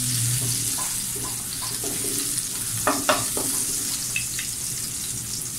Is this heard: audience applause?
no